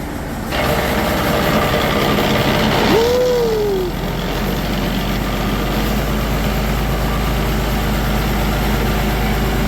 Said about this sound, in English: So I've noticed with this PTO, it takes a while to get quiet because it's lubricated with the transmission, and it's really loud at low RPM